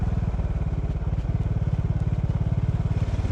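A motorcycle engine idles steadily and close by at a shrine parking area in Kamō, Japan, its low rhythmic pulsing continuous and loud throughout with no talk.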